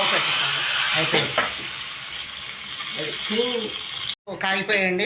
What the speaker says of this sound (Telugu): పక్కనేమో పులిహోర పోపు వేసేసాను, పోపు వేయించుకోవడం